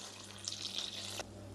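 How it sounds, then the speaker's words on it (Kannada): Water poured into a cooking pot of majjige huli, a short faint hiss of running water that stops abruptly after about a second. "ಸ್ವಲ್ಪ ನೀರು ಹಾಕೋಣ."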